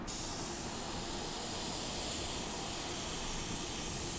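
Blue alcohol ink sprayed onto a flower painting, a steady close hiss of aerosol spray running unbroken for the whole stretch, loud and even without any talk.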